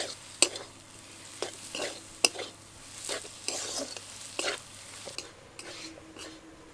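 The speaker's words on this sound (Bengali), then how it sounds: "এখন এর মধ্যে দিয়ে দেব ধনেপাতা কুচি। ভালোভাবে আবার মিশিয়ে নেব।" Spiced potato mixture with chopped coriander being stirred in a pan, a spoon scraping in repeated strokes over a soft sizzle of frying, close and alone without talk.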